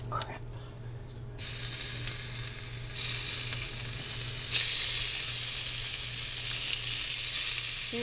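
Thinly sliced beef sizzles and fries in hot sesame oil for a stir fry, the crackling hiss jumping up in loudness as the meat goes into the pan and staying steady and close.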